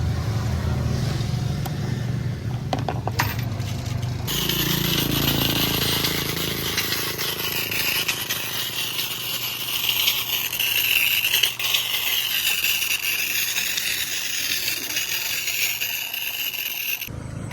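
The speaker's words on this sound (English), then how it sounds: "you can tell just by going down the road here, most people use scooters here." Motor scooters travel along a road in the Philippines, giving a continuous engine drone and road rush that swells as vehicles pass close by, with no voices.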